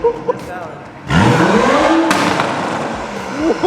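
Toyota Supra engine revving hard, a loud rising roar that swells, holds and falls away, with a sharp crackle of exhaust pops; people talk around it.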